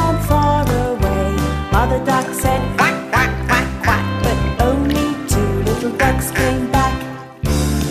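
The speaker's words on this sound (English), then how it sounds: "Mother duck said quack." Duck quacks repeat rhythmically within a bouncy children's nursery-rhyme song about little ducks, loud and closely mixed with the music.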